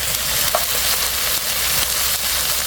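Frozen whole shrimp fry in a hot pan, a dense, continuous loud sizzle with crackling spatters and occasional stirring scrapes, heard up close with no talking.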